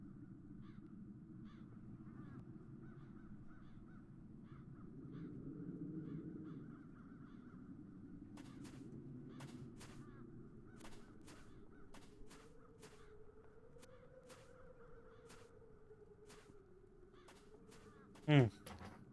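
Crows caw in sharp, scattered bursts across a quiet, deserted town in the video game The Dark Eye: Chains of Satinav, fairly faint over a low ambient drone, with one louder accent near the end.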